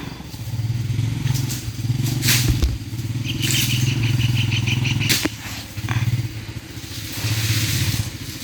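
Motorcycle being ridden, its steady engine drone running throughout with short dips and surges, a rattling clatter and a few sharp knocks on top.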